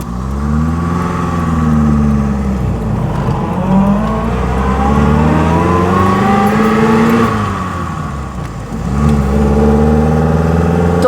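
A 1930s Lancia Aprilia, a small cozy car, drives close by with its engine pulling strongly and rising in pitch through two acceleration runs, easing briefly around a gear change before climbing again, loud and steady, with no talk.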